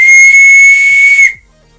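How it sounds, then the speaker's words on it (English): A Liesel whistle from Wolfenstein 2, bought as collectible merchandise, is blown once in a single piercing, very loud steady tone lasting over a second before it cuts off abruptly. "It's a Liesel whistle."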